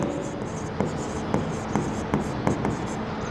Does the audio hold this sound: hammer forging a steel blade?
no